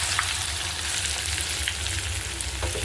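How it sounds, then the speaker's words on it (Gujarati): Eggplant and potato pieces sizzle steadily as they are tempered with asafoetida directly in hot oil for a curry, a dense continuous frying hiss with faint stirring clicks and no talk. "હું આ શાક જે છે તે ડાયરેક્ટ વઘાર કરું છું"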